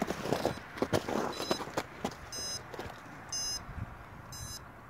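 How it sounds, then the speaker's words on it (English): A few short electronic beeps from a downed 200QX quadcopter drone sound intermittently over outdoor rustling and soft thumps, moderately loud and close. "Should it happen to actually go down, you can actually hear it beep."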